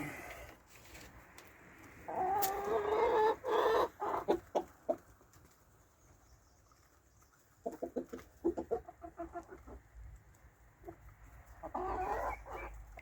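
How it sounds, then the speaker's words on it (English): Chickens cluck in bursts at close range, with short choppy calls repeating over a few seconds, then quieter stretches before another flurry of clucking. "They are bonny birds."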